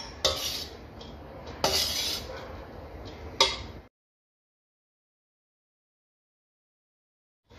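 Vegetables and Schezwan sauce are stirred on a tawa, with a few sharp metal scrapes of the spatula and a faint sizzle. Short bursts of activity come close and clear, then everything falls silent.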